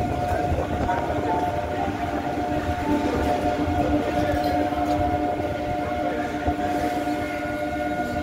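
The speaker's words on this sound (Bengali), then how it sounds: "বড় বাজারে ট্রেন প্রবেশ করলো।" A Kolkata circular rail train pulls into Bara Bazar station, its steady, close rumble carrying faint tonal squeals of wheels or brakes that continue without a break.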